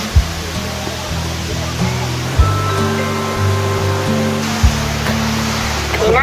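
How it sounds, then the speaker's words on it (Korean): Shifen Waterfall in Taiwan roars as a loud, steady rush of falling water, with faint musical tones and a couple of brief thumps mixed in. "여기 폭포 이름이? 스펀 폭포."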